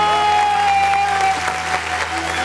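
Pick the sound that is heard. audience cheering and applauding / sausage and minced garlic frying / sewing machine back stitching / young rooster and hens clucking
audience cheering and applauding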